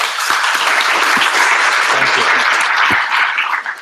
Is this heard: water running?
no